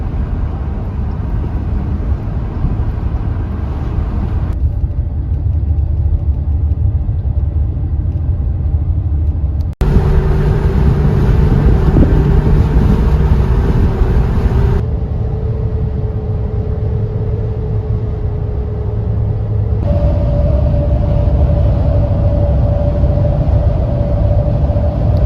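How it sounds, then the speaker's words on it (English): Loud all-terrain tires from Walmart roar steadily on the road at several different speeds, a constant broadband rumble heard from inside the vehicle, with the pitch and loudness shifting abruptly as each speed segment changes. "they really accurately show how loud these tires are at a bunch of different speeds"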